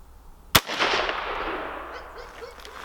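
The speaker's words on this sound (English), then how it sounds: "Okay, there's 3 shots." A single sharp rifle shot from a Savage A17WSM semi-automatic chambered in .17 WSM cracks out, followed by a long fading echo across an open range.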